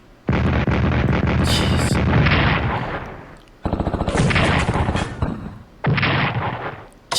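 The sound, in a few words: Japanese artillery fire in a Pacific war video game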